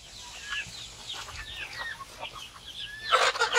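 Chickens on a homestead, big young hens among small chicks, make soft clucks and chirps at close range, with a louder scuffling burst near the end.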